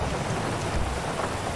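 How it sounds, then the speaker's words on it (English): Heavy, steady rain in a video game, heard through an open car window, hissing loudly and close, a dense constant patter with a low rumble beneath it. "I love the way the rain actually gets louder when you lower the window."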